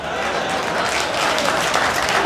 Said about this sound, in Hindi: इस बात पे जो लोग ताली बजाने से चूक गए हैं उनको एक अवसर और दे रहा हूं।